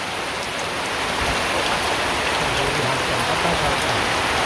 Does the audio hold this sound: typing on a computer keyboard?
no